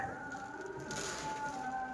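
Pigeons coo softly in the background, low and gentle, with a faint steady tone running underneath.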